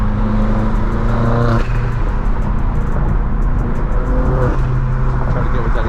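A BMW E92 3 Series and an Audi accelerating hard on a road at night, with loud, continuous engine roar, rising revs and shifts, heard close from inside a car.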